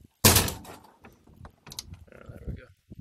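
An ambulance converted into an RV on the Bonneville Salt Flats has its clamshell door swung shut with one loud, close, heavy thunk, followed by quieter rattles and handling noises.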